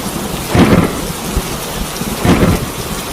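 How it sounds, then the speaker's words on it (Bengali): A fierce thunderstorm over a village, heavy rain pouring steadily throughout while two loud rumbling thunder bursts roll in close, one near the start and one near the end. "তার পরের দিনই গ্রামে এক বিশাল ঝড় হলো।"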